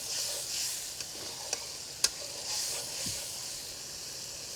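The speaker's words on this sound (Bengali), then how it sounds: "এবারে এটাকে হচ্ছে কষাইতে হবে বেশ ভালোভাবে কষাইতে হবে" Fish curry with turmeric, chilli and salt sautés in a pan, giving a soft, steady sizzle with a few sharp clicks of a spoon against the metal. No one speaks.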